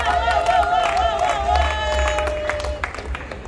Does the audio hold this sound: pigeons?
no